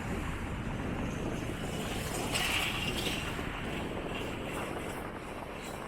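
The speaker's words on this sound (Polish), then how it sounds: "Wiatr wieje, także nie wiem znowu jak będzie z dźwiękiem" Steady rushing wind buffeting the microphone outdoors in Coatzacoalcos, Mexico, a constant low roar with faint hissing gusts and no voices.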